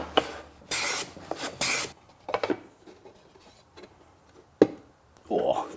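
Woodworking hand plane shaving the edge of a dovetail box lid for fit, several short rasping strokes in bursts with pauses between, close by, with occasional quiet talk.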